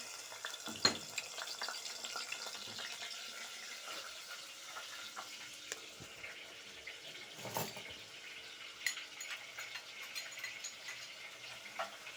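Grated onion fries in oil in a pot on a gas stove, giving a faint, steady sizzle with scattered soft crackles and a few brief louder pops.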